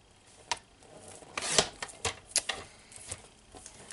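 Paper is cut for a 6x6 birthday party mini album, giving a series of close, crisp snips and rustles in an uneven rhythm, fairly quiet and without talk.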